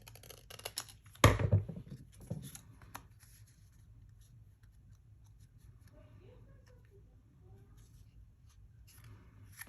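Scissors cutting a sheet of paper in half during a craft project, giving a brief close snip and rustle followed by quiet handling noises, with room tone and light background sound.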